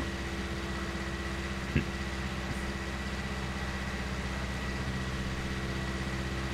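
A tractor engine in Farming Simulator 19 idles in a steady low rumble with a constant drone, broken by one brief knock, and no voices.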